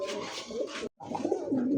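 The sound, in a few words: pigeon cooing in a cage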